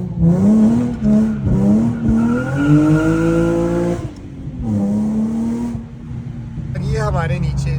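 A Nissan 350Z slides sideways in a drift, its engine droning loud and close with rising and falling revs and tire noise, while voices talk over it throughout.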